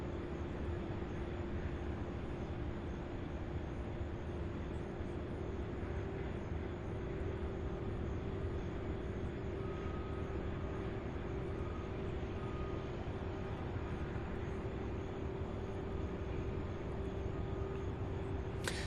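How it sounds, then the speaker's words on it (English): Boeing 747 arriving at UPS Worldport at night, a steady, broad engine roar with a constant low hum that stays level throughout, with no talking. "the 747 coming in now"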